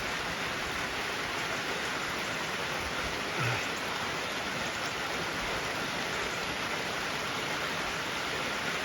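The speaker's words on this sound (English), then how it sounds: "It's raining" Steady rain ahead of Hurricane Helene, a dense unbroken hiss of falling water that stays constant throughout, with a faint brief thump partway through.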